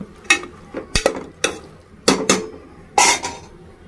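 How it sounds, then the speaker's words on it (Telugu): A utensil stirs sliced onion and green chillies in a cooking pan, giving several short, separate scraping and clattering strokes at close range with pauses between them and no talking. "ఆనియన్ 3 పచ్చిమిర్చి వేసేసి ఇలా కలుపుకొని"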